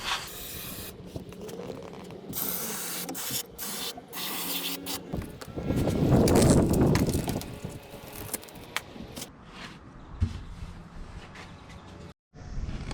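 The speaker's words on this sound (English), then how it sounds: "I want to spray some silicone right onto this rubber track" Silicone sprayed from an aerosol can onto the rubber window track of a 2015 Nissan driver's door, several hissing bursts close up with rubbing and handling noises between them.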